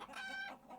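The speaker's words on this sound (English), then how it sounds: "Sandy soil, scaly feet raking, low, contented warbles and squeaks." A single brief, high chicken warble or squeak, soft and close, lasting under a second.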